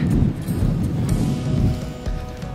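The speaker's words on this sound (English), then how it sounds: "It's so windy." Strong wind while kiting buffets the microphone in a steady low roar, loud and continuous throughout.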